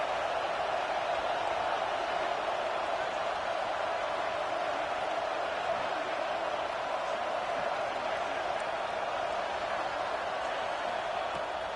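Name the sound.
stadium football crowd noise on third down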